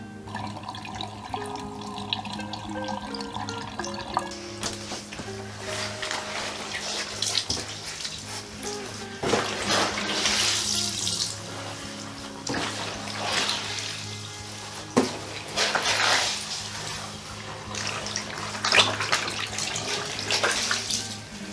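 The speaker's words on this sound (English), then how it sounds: "So I'm just wringing the water out by squishing it against the side of the tub." Water being wrung from a soaked vintage quilt by pressing it against the side of a bathtub, giving sloshing, squishing and trickling splashes that swell and fade in irregular surges over a low steady hum.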